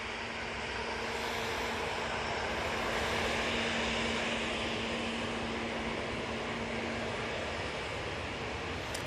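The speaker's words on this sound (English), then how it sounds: "Off to Rome. There's 737-800." A Ryanair Boeing 737-800 departs Manchester Airport for Rome, its jet engines a steady, broad distant roar that holds evenly throughout with no talk.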